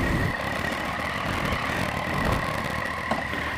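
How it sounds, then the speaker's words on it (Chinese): Zontes 703F three-cylinder motorcycle engine running, a steady close mechanical drone with an even, slightly rumbling tone and no voices. "让我们点火骑起来吧。 哇哦，3缸的声音"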